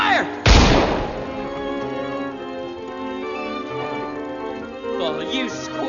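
A film scene with one loud booming cannon shot that rings out and decays, followed by a sustained musical score and faint shouted voices.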